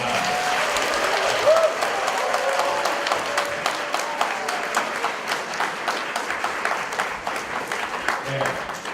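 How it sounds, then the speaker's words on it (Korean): An audience at a high school debate final gives warm encouraging applause, a sustained crowd clapping that gradually thins into more distinct individual claps toward the end. "좀 뜨거운 격려의 박수 좀 부탁드립니다"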